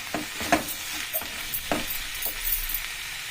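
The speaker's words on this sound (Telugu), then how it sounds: "ఇట్లా మగ్గుతున్నాయండి, ఫ్రై అవుతున్నాయి ఉల్లిగడ్డలు." Onions fry in a pan for an onion and fresh coconut curry, with a continuous sizzle broken by scraping stirs from a spoon, close and fairly loud.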